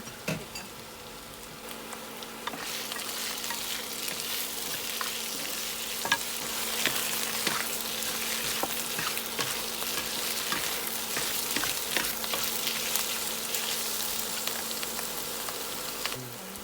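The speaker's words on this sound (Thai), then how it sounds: "ลงผัดให้หอมเลยค่ะ หอมดีแล้วเราก็ใส่เห็ดหอมลงไปนะคะ" Sliced shiitake mushrooms sizzle steadily as they are stir-fried in a hot pan, the frying hiss jumping up after a quieter start, with occasional scrapes and clicks of stirring.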